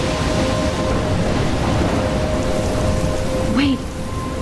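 A steady, heavy rainstorm pours in the Life is Strange video game, with a constant dense hiss of rain and a low rumble of thunder beneath it, loud and unbroken.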